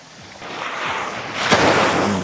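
Gentle ocean waves wash onto a shallow, calm beach, a broad airy rush of surf that swells toward the end, close by and outdoors with faint wind noise.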